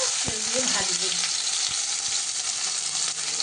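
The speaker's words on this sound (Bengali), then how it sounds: "কড়াই গরম করে কড়াইতে তেল দিলাম এবার কত তিনটে কাঁচা পেঁয়াজ কুচিয়ে রেখেছি সেই কাঁচা পেঁয়াজগুলো" Three chopped raw onions hit hot oil in a wok, producing a loud, steady frying sizzle with a few light knocks of a spoon stirring near the start.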